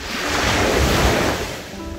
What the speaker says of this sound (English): Can you hear this sound of the waves?